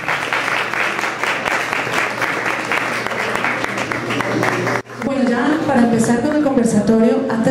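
Audience applause for newly installed officers of a musicians' union in Colombia, a dense, steady clapping that fills the first few seconds before cutting off abruptly into a person talking.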